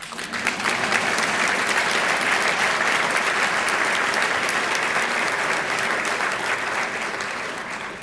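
A large crowd at a benefit breakfast applauds warmly and continuously, dense clapping holding at steady loudness for about eight seconds before easing slightly at the end.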